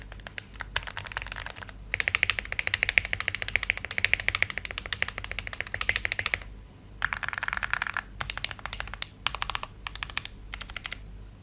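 Keys on a custom mechanical keyboard clack in rapid, clicky runs of typing, broken by short pauses between bursts; close and crisp, with no talk.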